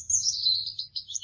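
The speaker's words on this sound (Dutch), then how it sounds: "Ik kweek Australische prachtvinken, goldamandien, een prachtig vogeltje, een stil vogeltje" High, thin chirps from a Gouldian finch, a small Australian finch, running in a steady stream of soft, fairly close calls with no talking.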